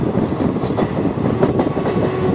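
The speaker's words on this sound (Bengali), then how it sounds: "শেওড়াফুলি জংশন আমাদের ট্রেন ক্রস করে ফেললো" The 13028 Azimganj–Howrah Kaviguru Express runs through Sheoraphuli Junction, heard from on board as a loud, continuous rumble with a steady clickety-clack of wheels over rail joints.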